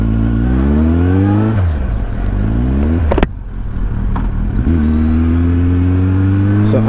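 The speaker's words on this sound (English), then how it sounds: "So I am riding Z800 of Abhishek." A Kawasaki Z800 motorcycle engine roars close and loud while it is ridden, rising and falling through several revs and gear changes with a sharp dip near the middle before the tone climbs again.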